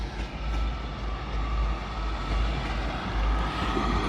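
Class 155 diesel unit 155343 pulling out of York station on a service to Bridlington via Hull, with a steady low engine rumble and rolling rail noise held at an even level throughout and no voices.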